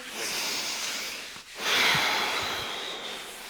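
Slow yoga breathing: a long, close airy inhale hiss, a brief pause, then a longer breathy exhale, soft and steady with no talking.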